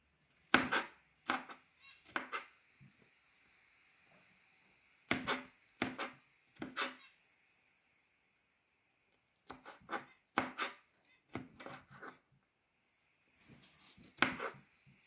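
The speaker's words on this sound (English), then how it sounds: "So cutting red capsicums as well." A knife chops red capsicum on a board in sharp, crisp strokes that come in quick bursts of two to four cuts with short silent pauses between, close and clear in a quiet room.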